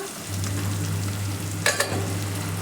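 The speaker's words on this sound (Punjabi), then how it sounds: "ਆਪਾਂ ਹਲਕੇ ਜਿਹੇ ਪਿਆਜ਼ ਭੁੰਨ ਲਵਾਂਗੇ ਪਿਆਜ਼ ਦੇਖੋ ਜੀ ਹਲਕੇ ਹਲਕੇ ਜੇ ਭੁੱਜ ਗਏ ਨੇ" Onions and green chillies frying in a pan for daliya, a steady close sizzle with a couple of brief stirring clatters partway through and no talk.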